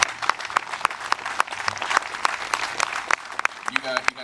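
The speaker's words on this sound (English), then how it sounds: "congratulations and a round of applause for the United States Marine Corps." An audience at a veterans' ceremony applauds the United States Marine Corps on its 237th birthday, with steady clapping and sharp individual claps standing out near the listener.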